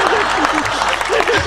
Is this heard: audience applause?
yes